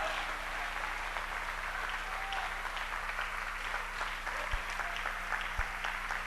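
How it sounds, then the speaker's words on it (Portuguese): A church congregation applauds steadily throughout, a dense, even wash of clapping at moderate level with a steady low hum beneath and two brief low thumps late on. "Vamos aplaudir mais,"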